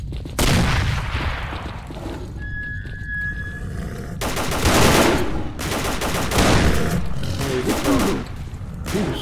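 Gunfire in the video game S.T.A.L.K.E.R. Call of Pripyat, with repeated bursts of rapid shots in clusters, loud and close, with brief pauses between volleys and a faint high tone in one gap.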